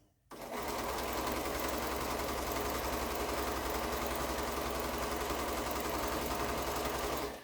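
Sewing machine stitching quilt pieces together, running in one continuous, fast mechanical whir at a steady level that starts just after the beginning and holds without breaks.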